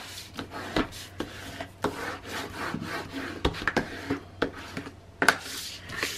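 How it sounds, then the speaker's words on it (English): Tape being burnished onto an album cover by hand, producing repeated short rubbing and scraping strokes in an irregular rhythm, close and fairly quiet, with no talk. "All right, let me burnish."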